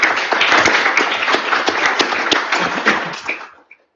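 Audience applause at a student senate session: a burst of dense clapping, fairly close and loud, that fades out over a few seconds and ends in a few last claps.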